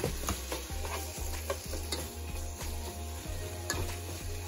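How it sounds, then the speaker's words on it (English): Bacon and onion sautéing together in an uncovered pan, a steady close sizzle with light rhythmic stirring clicks and a low hum underneath, no voices. "it smells so good with that bacon and onion cooking"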